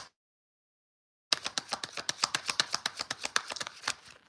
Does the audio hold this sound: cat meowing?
no